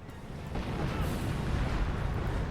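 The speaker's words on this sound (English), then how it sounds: "Hummel does get hit by the artillery." Artillery shells slam into a Hummel in the strategy game Company of Heroes, a low rumbling blast that swells and rolls on steadily with no talk.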